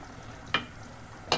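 Chicken and pumpkin being sautéed with spices: a low, even sizzle under two brief scrapes of a spoon against the pan, close and fairly quiet, with no talking.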